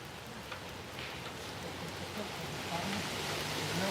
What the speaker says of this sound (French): Il pleut encore. Un petit peu, vous en faites pas.